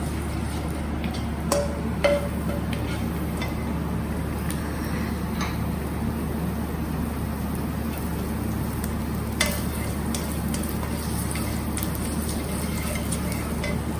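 Vegetables heating in a hot pan for a paneer sizzler give a steady, even sizzle with a low hum underneath and a few faint ticks and taps scattered throughout.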